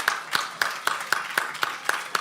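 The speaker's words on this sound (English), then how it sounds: "Big round of applause." Sharp, evenly spaced claps, about nine in quick rhythm, at an audit committees' conference awards presentation, sounding like one nearby person clapping rather than a full crowd.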